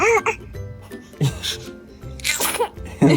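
Several small, high-pitched sneezes from a child, short bursts spaced across a few seconds with light giggly sounds in between.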